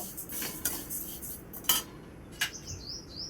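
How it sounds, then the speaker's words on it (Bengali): Black mustard seeds stirred in a pan for a pickle spice mix, with quiet metallic clinks and scrapes of a spoon against the pan and faint bird chirps in the background. "কালো সরষা ঢেলে দেব। ভালোভাবে নেড়ে নেব।"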